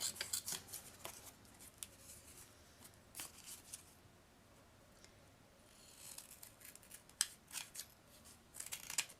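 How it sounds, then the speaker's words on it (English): Scissors trim a pressed flower paper tag at a craft table, a series of faint, quick snips in short clusters with quiet pauses between them. "I want to do just a couple of little trims here."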